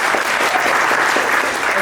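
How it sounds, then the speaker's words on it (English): Loud, sustained applause from a crowd at a launch party after the speakers finish, dense overlapping claps forming a continuous roar close by. "Another round of applause, please."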